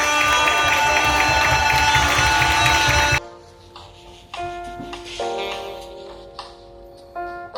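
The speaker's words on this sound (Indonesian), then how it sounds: "Lebih meriah lagi tepuk tangan untuk Tuhan Yesus." A church congregation claps and cheers loudly for about three seconds, then the applause cuts off abruptly, leaving quieter room sound with sustained tonal notes like a keyboard.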